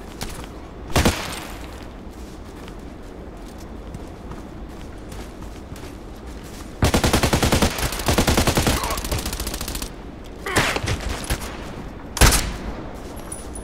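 Sniper gunfire rings out in the online shooter Contract Wars: isolated loud cracks punctuate steady background noise, with one dense burst of rapid shots in the middle and later sharp reports.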